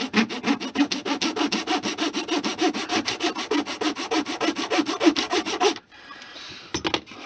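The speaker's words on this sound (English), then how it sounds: "once I've got the first one cut off, the end frame will guide the saw nicely for me" A fine-toothed razor saw cuts through small wooden frame stock for an HO-scale mining structure, a rapid run of even back-and-forth rasping strokes up close, then stopping with a couple of brief scrapes.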